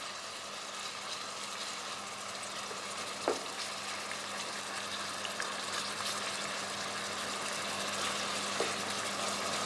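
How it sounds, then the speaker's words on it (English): Shrimp sizzling in a pan as it cooks for shrimp scampi with pasta, a steady broadband frying hiss with a few brief clinks of a utensil, fairly quiet and continuous with no talking. "So let's cook our shrimp."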